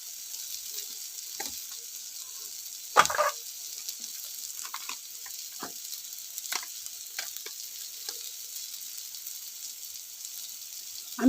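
Chopped onion with salt frying and being stirred in a pan for egg chow mein, a soft steady sizzle broken by a few sharper scrapes and clatters, close and moderately quiet, with no talking.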